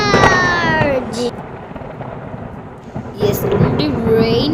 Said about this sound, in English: Yesterday rain, now it's a thunderstorm.